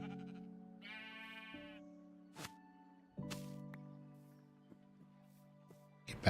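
Sheep bleating in Minecraft: a few short, clear electronic bleats spaced apart over a sustained steady tone, fairly quiet, with no talking.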